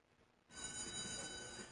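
A bright, steady electronic bell ringing starts abruptly after a brief quiet moment and continues loudly and evenly, like a phone-style ring, in a retail store advert.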